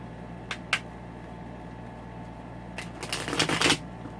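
Wheel of the Year tarot deck being shuffled by hand: two quick riffles early on, then a denser burst of card flutters and snaps near the end over a low steady room hum.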